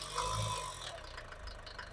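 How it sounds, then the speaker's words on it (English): Mercedes T1 Autotrail motorhome engine with mechanical throttle linkage, running cold and revved briefly: a loud low rumble that swells at first, then settles into a steady, slightly rattling idle. "with a bit of a rev up"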